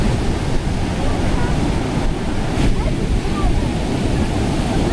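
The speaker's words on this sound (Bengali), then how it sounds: "তার সাথে সমুদ্রের হচ্ছে ঢেউ।" Sea waves at Puri beach roll in with a steady, loud broadband roar, continuous surf wash filling the whole stretch with wind buffeting the microphone and no clear individual breakers.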